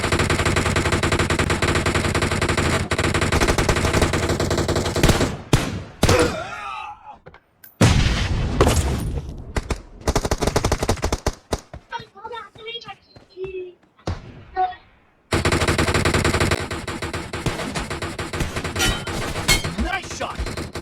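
M416 assault rifle fire in BGMI during a team deathmatch played on a BlueStacks emulator: loud, dense automatic bursts that come and go, with brief quiet gaps between volleys.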